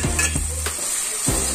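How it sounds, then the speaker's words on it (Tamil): Tomatoes sautéing in a pan for egg curry, giving a steady close sizzle with a couple of soft stirring scrapes. "தக்காளி நல்லா வதங்கிக்கலாம்."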